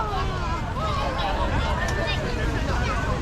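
Crowd at a Christmas tractor parade in Germany, a constant babble of many voices mixed with wind noise and the hum of passing vehicles, with a nearby voice speaking over it.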